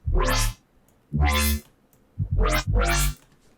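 Four bursts of vocoded wavetable color bass from the Vital synth, each a bright rising sweep with a rich harmonic stack and a ramped wavetable position, the last two coming closer together.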